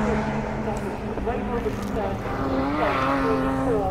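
Race cars at the Lydden Legends motorsport festival roaring past and over a jump, engines revving and rising in pitch, steady and loud, with people talking over the engine noise.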